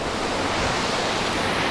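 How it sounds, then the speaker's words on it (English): Water pours over the Cascades at Forth Falls near Wilmot, Tasmania, a steady broadband rush with no pauses, loud and close throughout. "here are the Cascades"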